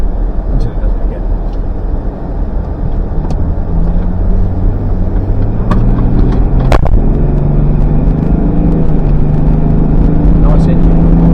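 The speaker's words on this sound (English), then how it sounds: "Nice engine." A car fitted with an M57 diesel engine runs steadily, a close, loud idling rumble with a low drone that shifts pitch slightly partway through, with faint ticks and knocks over it.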